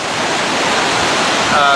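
Atlantic Ocean surf at Boca Congreso on the Tenerife coast, a steady loud broadband wash of breaking water that swells slightly near the end, with no voices.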